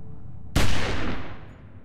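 A single loud, close gunshot in The Walking Dead video game cracks out suddenly from a quiet background, then its heavy echoing tail rolls and fades over the next second.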